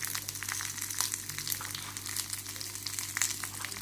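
Coriander, peanuts, cumin and a green chilli roast in hot oil with a steady, quiet sizzle and small crackles, and nobody speaks.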